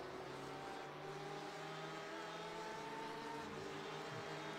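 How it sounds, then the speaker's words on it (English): Several race car engines from an iRacing endurance race at Watkins Glen, a steady dense drone with overlapping engine notes droning and shifting pitch throughout, no speech. "Always nice to hear the different engine notes."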